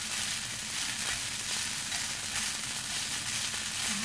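Noodles for rad na stir-fry in a hot pan, a dense, continuous sizzle up close with faint stirring scrapes and no voices.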